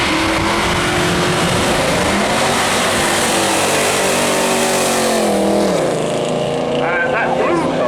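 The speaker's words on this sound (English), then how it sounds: "It's a 1967 Mustang," A 1967 Mustang with a 5.7-litre engine accelerates at a seafront speed trial, its loud engine roaring continuously and shifting pitch as it pulls away, with a voice talking over it.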